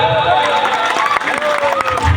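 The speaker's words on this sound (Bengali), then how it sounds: "বাঙালিদের জন্য একটা জোর করতালি হয়ে যাক" Audience at a live Bengali music show clapping and cheering together, a dense steady roar of applause filling the short moment, with a voice over it.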